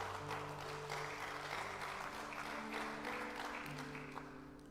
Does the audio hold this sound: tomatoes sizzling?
no